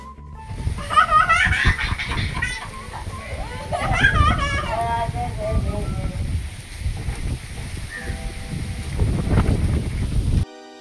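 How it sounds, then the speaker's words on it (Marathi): Strong wind buffets the microphone with a loud, gusty rumble out in the fields, while a child on a swing laughs and chats faintly with her grandmother underneath. "पण वारं इतकं चालू होतं ना, त्या वाऱ्यामुळे त्यांच्या गप्पांचा आवाजच येत नव्हता"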